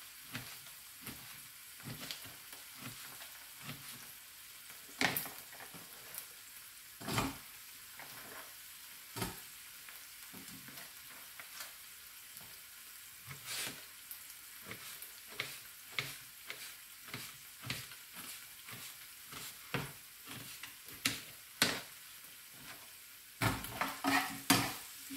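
Eggplant sizzles in a pan while being stirred, with a steady soft frying hiss broken by frequent sharp scrapes and clinks of a utensil against the pan at an irregular pace.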